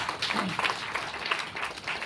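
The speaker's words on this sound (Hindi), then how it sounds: "मैं चाहूंगा सर के लिए एक बार जोरदार तालियां हो जाए" Audience applause at a closing ceremony, a soft, even spread of clapping heard from some distance, sustained across the whole moment with no clear voice over it.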